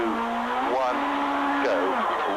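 A BP Ultimate VW Polo rally car launches from the stage start at the 2010 Rally of South Africa, its engine revving hard through rising gear changes, with a voice talking over it.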